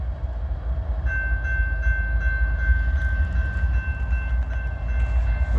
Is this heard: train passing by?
yes